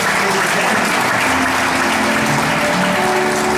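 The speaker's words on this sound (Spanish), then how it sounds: "le doy un aplauso al Señor por su misericordia" Loud, sustained applause fills a church service, a dense continuous wash of clapping from the congregation with faint voices and tones mixed in beneath it.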